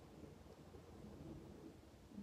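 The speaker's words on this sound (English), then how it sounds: "That was thunder." Low thunder rumbles on through a severe-weather tornado warning, a steady distant roll with faint swells and no voices.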